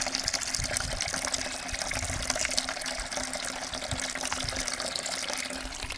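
Steady rushing and gurgling of sludgy water being pumped continuously from the bottom of a garden pond, a thick churning gush with a low pump hum running underneath throughout.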